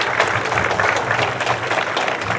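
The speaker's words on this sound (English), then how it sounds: "I'd like to give them a round of applause" A crowd at a Memorial Day observance applauds custodial staff, a thick, even wash of many hands clapping throughout, with a faint murmur of voices underneath.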